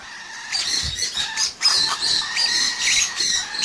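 A Quaker parrot kept among cockatiels, conures and lovebirds gives repeated loud, harsh squawks and chattering calls close by, in rapid bursts with a brief pause midway.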